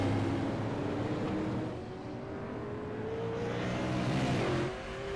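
A damaged race car with a broken left front wheel, driving in a racing video game, gives a steady droning engine hum with a whining tone that holds and then drops slightly near the end.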